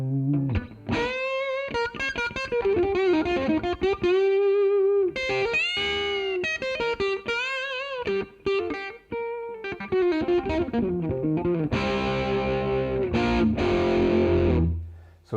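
An electric guitar, a Gibson Les Paul running through an Electro-Harmonix Cock Fight pedal into cabinet simulation, plays a British crunch tone in loud close riffs and chords, with a brighter sustained section near the end.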